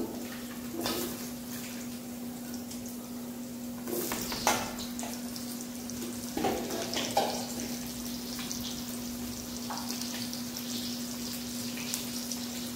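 Potatoes frying in hot oil with black cumin in a home kitchen, a steady low sizzle broken by a few soft stirring knocks and clatters, heard close with no talking.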